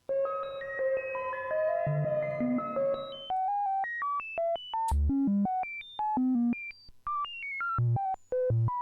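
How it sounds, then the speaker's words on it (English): A synthesizer used as a random tone generator, with a sample-and-hold output driving its pitch input, steps through random pitched tones, one short note after another in an uneven jumping sequence, with a denser chordal wash fading away at the start. "Becomes a random tone generator."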